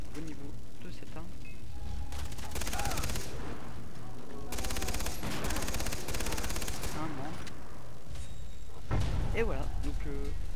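Bursts of loud gunfire from a signature weapon in the shooter Far Cry 3 come in repeated volleys separated by short gaps, with rapid automatic strings and heavy thuds while someone speaks over the action.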